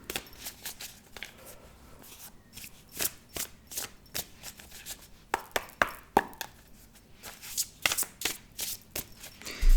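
A deck of cards is cut and handled for a reading, with a scattered run of sharp, close snaps and soft slaps at irregular intervals over quiet room tone.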